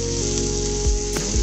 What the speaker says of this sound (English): We've got a good sizzle on the onions